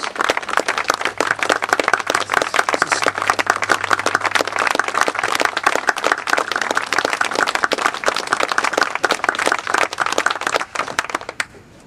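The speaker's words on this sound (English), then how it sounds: "we can resume the applause later on." Crowd at a bridge opening ceremony clapping in sustained applause, crisp individual claps packed into a continuous outdoor patter that runs for about eleven seconds before cutting off.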